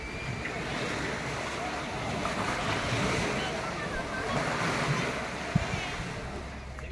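Waves and wind buffet a small passenger boat on the sea off Dhanushkodi, a steady broadband wash of surf and gusting microphone wind running throughout with a faint engine rumble underneath.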